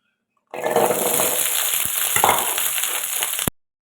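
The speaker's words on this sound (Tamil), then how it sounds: "அந்த பூண்டை வதக்கிக்கலாம்" Half a kilo of large garlic cloves sautés in hot sesame oil for a pickle, giving a loud, crackling sizzle that starts abruptly, holds steady for about three seconds with occasional scraping, then cuts off.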